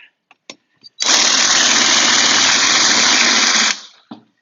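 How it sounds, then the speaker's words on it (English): A few light taps and clicks, then a power drill whines loudly and steadily for about three seconds while drilling out a vintage motorcycle's spark plug hole, before stopping, followed by a brief clatter. "Just trying to keep the drill as straight as possible while I do this."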